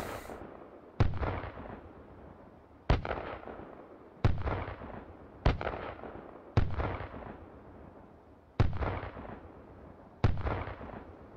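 An M224 mortar in Hot Dogs, Horseshoes and Hand Grenades fires seven evenly spaced heavy booms, each a sharp loud thump that rings out and decays over about a second before the next round.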